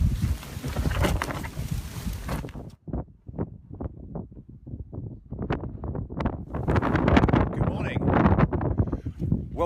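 Gusty wind buffets across vast open moorland at White Edge, roaring and rumbling loudly close to the microphone in uneven surges, easing briefly before building into stronger blustery gusts.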